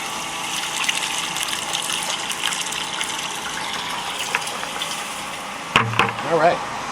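Bleach-treated water poured down a well casing to disinfect a deep well makes a steady, gushing trickle, with a brief louder splash and sloshing near the end.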